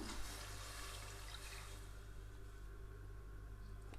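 Water poured into a pan of frying masala for a chickpea and bottle gourd curry, a steady rushing hiss and sizzle that fades slightly after the first two seconds, continuous and close with no talk.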